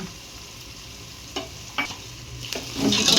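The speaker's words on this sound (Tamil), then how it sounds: "இஞ்சி பூண்டு வந்து பச்சை வாசனை போகிற அளவுக்கு நல்லா வதக்கிக்கோங்க" Ginger and garlic sauté in hot oil for a white chicken biryani, a steady soft sizzle broken by a few scraping stirs of a spoon against the pan, growing louder toward the end.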